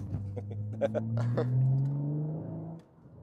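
A BMW M135i engine hums low and smooth while accelerating, its rising drone climbing gradually before fading, with someone talking over the first half.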